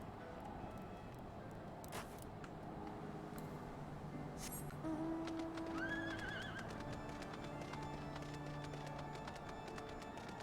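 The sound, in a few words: horse galloping and neighing in Final Fantasy XIV video game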